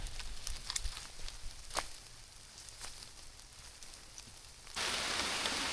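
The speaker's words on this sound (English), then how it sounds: "it is definitely pouring down rain" Heavy rain pouring down during a solo survival outing in a giant thunderstorm, a dense steady roar of falling water with scattered louder drips, swelling abruptly to a fuller downpour near the end; no talking.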